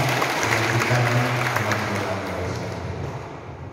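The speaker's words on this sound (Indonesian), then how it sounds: "Tepuk tangan untuk kakak pertama." Applause from a seminar audience at GMIM Bukit Moria Tikala Baru church in Manado, a steady wash of clapping over a low hum that eases slightly toward the end.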